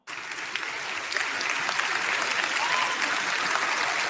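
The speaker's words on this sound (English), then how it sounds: "Watch all these people stand up and applaud them" A crowd stands and applauds a speech, the clapping starting abruptly and swelling into a sustained, fairly distant wash of hands with scattered sharper claps.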